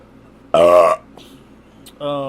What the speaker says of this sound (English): It gives me the burps.